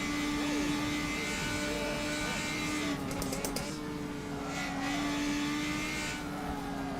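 A race car engine in the rFactor 2 sim drones steadily at high revs through a corner, its tone dipping and rising slightly, with a brief rattling burst midway and no voices.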